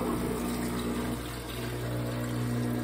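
A home espresso machine's pump drones steadily as water is forced through the coffee, a constant low hum.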